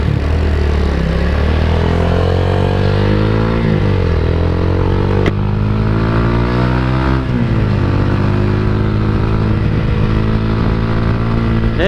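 Two motorcycles cruise together on a night ride, their engines droning loud and steady throughout, with pitch rising and falling through gear shifts and revs.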